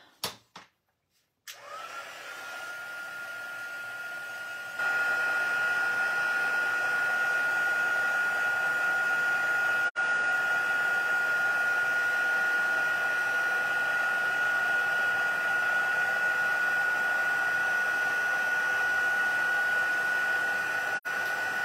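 A heat tool blasts hot air over embossing powder on a large rubber stamp, a loud, continuous whooshing drone with a faint steady whine, starting after a few clicks and running unbroken for about twenty seconds.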